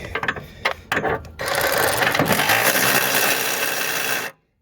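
Ratchet wrench clicking on a transmission bolt during a transmission removal, a few short bursts of ratcheting followed by about three seconds of steady, continuous mechanical ratcheting close up.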